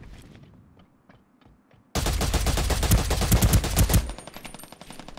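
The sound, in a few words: gunfire in the video game Ring of Elysium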